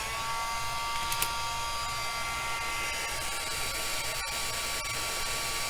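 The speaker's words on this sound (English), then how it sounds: "I'm going to heat it one more time, and that's going to bring the shine back" A heat tool blows a steady, soft electric whir with a faint high whine while melting embossing powder on a handmade card. It sounds fairly quiet and unbroken, with a few small clicks and no voices.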